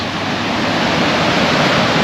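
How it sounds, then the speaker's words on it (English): A small but powerful waterfall near Godafoss in Iceland pours in a steady, dense rushing roar, close and unbroken with no voices. "Another little waterfall."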